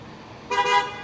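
A car horn gives a short double toot, brief and moderately loud over quiet background noise.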